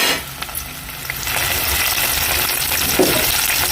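Mushroom and brinjal pieces drop into hot oil with golden fried onions. A soft start builds into a loud, sustained close-up sizzle with occasional crackles and stirring, and no one speaks.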